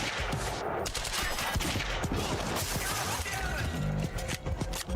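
Dense, continuous gunfire and impacts from a firefight in the video game Quantum Break, loud and busy with overlapping shots and debris throughout.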